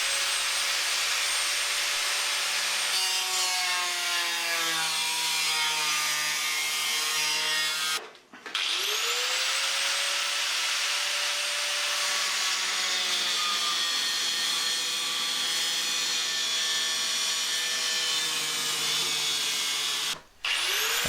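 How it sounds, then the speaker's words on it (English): An angle grinder with a cutting disc slices through the steel inner structure of a Talbot camper bonnet, a loud sustained whining screech that shifts in pitch, broken by two brief pauses. "I would join the dots using the cutting disc in the grinder."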